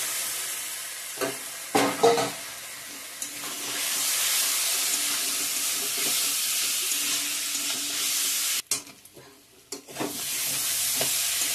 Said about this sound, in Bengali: ভালোভাবে মশলার সঙ্গে আলুটা কষিয়ে নিয়েছি